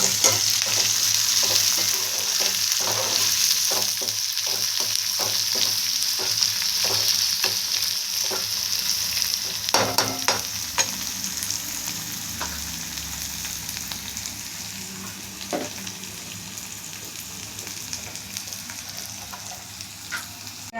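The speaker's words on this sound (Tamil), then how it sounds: "ஒரு பிஞ்சு உப்பு போட்டுட்டோம்னா வெங்காயம் ஃபாஸ்ட்டாக வதங்கிடும்." Sliced onions with a pinch of salt sautéing in a pan, a soft steady sizzle broken by repeated scraping and stirring clicks from a utensil, gradually quieting toward the end, with no voices.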